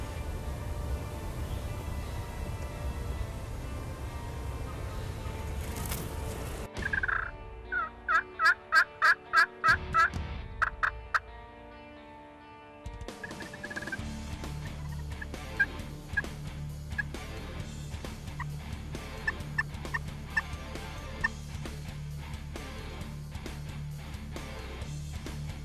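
Wild turkeys gobbling on a Mississippi hilltop during a hunt, a burst of about seven loud, rapid gobbles in the middle, then a steady run of repeated gobbles and clucks further off over outdoor background noise.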